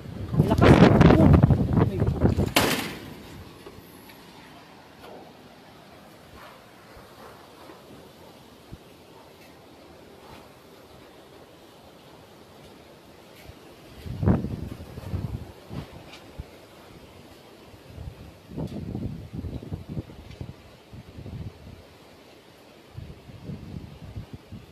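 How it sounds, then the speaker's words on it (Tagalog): Strong storm wind buffets an open microphone in Gasan, a loud roaring gust at the start, then quieter rushing stretches with renewed bursts of wind later on. "Ang lakas ng hangin."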